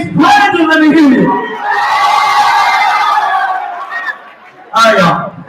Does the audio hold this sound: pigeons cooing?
no